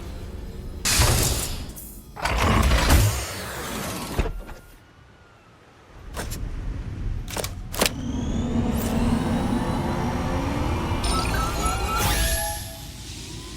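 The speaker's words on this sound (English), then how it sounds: "Use the drone's vacuum beam to pull in that mitochondria and power up." The drone's vacuum beam in the video game Out of Scale, with whooshing, rising electronic surges and a sustained humming pull that builds, cuts out with sharp clicks, then hums on steadily at moderate loudness.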